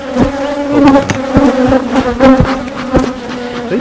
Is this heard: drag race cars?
no